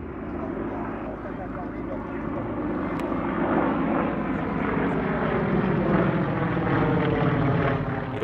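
Yak warbird propeller aircraft, such as a Yak-3UA or Yak-9P, making a flyby at an airshow, a steady droning engine roar that swells gradually as it passes, with a narrator talking over it.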